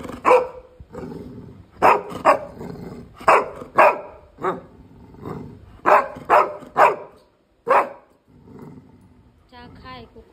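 A pet dog barks in short bursts, several sharp loud barks spaced irregularly, while a person talks to it in between at close range.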